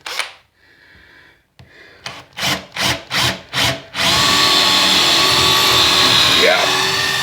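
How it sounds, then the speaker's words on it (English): A power drill revs in several short bursts, then bores continuously and loudly into a paneled wall, grinding steadily until the end. "let me verify this by drilling a hole here"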